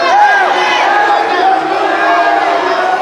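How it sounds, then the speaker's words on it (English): Wrestling crowd at a district tournament shouting and bellowing loudly and continuously, a sustained roar of raised voices calling for a two-point takedown. "The crowd's calling for two"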